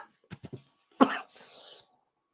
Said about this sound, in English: That's all I'm doing, just sitting here bloody coughing.